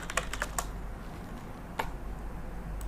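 A few quick keyboard key clicks in a short burst, a pause, then a couple more keystrokes. Close and fairly quiet.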